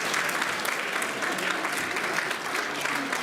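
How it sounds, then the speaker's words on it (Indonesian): Audience applause at the inauguration of the LKPP library, a steady, dense wash of clapping from a sizeable indoor crowd that holds for the whole stretch. "Tepuk tangan dong buat istri Anda ya."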